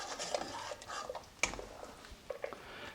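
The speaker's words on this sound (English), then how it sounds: "So stir it as you're adding it" A spoon stirs liquid into country-style chicken soup in a pot, making soft swishing with a few light metallic clinks against the pot, quiet and close.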